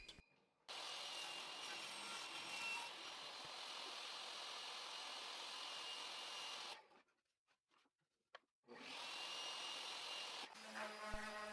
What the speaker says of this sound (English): set the fence just slightly larger than the pieces I had cut before, and cut new pieces